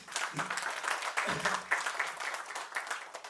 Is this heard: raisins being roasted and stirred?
no